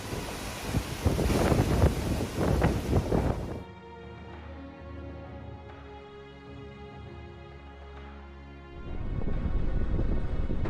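Strong storm wind roaring and buffeting a microphone in loud broadband gusts at the start and end, with a stretch of music in between.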